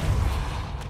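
The Depulso spell is cast in the video game Hogwarts Legacy, producing a single brief, low, booming blast that thumps out and tails off in under a second.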